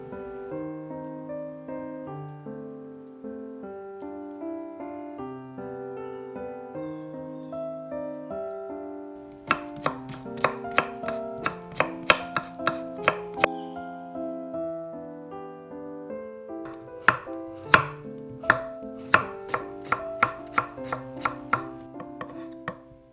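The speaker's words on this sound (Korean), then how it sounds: "오이는 4등분한 뒤 돌려 깎아 채 썹니다." A knife julienning quartered, peeled cucumber on a cutting board: rapid, crisp chops come in two bursts of quick taps over background music, with music alone at the start.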